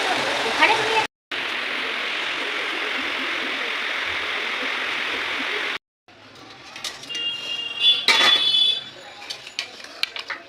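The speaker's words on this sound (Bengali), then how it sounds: "কি সুন্দর বৃষ্টি হচ্ছে" Steady rain pours in a dense, even hiss for several seconds, broken by brief cuts, then gives way to quieter household clatter with a few clinks near the end.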